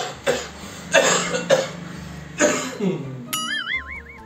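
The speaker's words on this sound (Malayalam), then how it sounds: "നല്ല ചുമയുണ്ടല്ല." A man coughs several times in short harsh bursts in a comedy sketch, the coughs close and spaced irregularly, followed by a brief rising whistle-like tone at the end.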